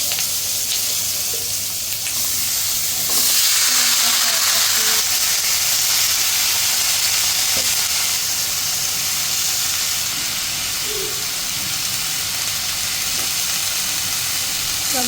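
Vegetables with cumin sizzle and fry in a pan, giving a steady, close hiss that runs throughout with small crackles and faint background sounds.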